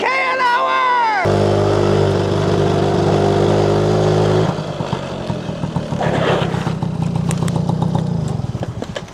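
A Honda Motocompo 49cc two-stroke folding scooter from the 1980s with a one-speed automatic runs flat out at its roughly 30 km/h top speed, giving a loud, steady buzzing engine drone close to the microphone throughout.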